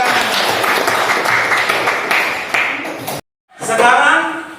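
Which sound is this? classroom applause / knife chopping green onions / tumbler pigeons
classroom applause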